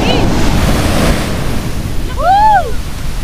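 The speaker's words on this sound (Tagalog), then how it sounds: "Yung alon niya parang pan-surfing." Surf rolls and washes onto a beach at Zambales Crystal Beach, a steady broadband roar with wind buffeting the microphone, and a brief bird-like chirp rises above it near the end.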